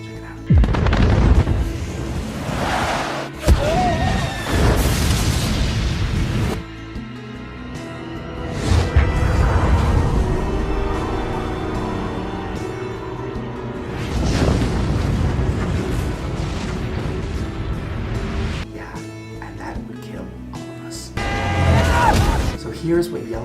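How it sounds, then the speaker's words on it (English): A Yellowstone supervolcano eruption from the disaster movie 2012, rendered as repeated heavy booms and crashing rumbles with dramatic swells and dips, mixed with soundtrack and voices from the film. "here's a clip from the movie 2012 where they have it explode, and it's intense."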